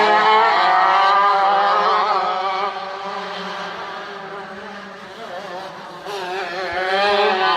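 80cc shifter karts race at the IKF Grand Nationals, their engines making a loud, high, buzzing whine that dips and then climbs again as they pass and accelerate.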